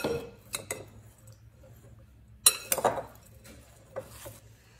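A vegan broccoli salad is stirred with cashew cream sauce in a bowl, giving sparse, close scrapes and clinks of a utensil against the dish with quiet gaps between strokes.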